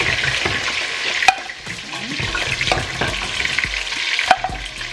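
Turkey frying in oil for Ghana turkey stew, a close steady sizzle and bubbling with stirring scrapes and a couple of sharp metal clinks.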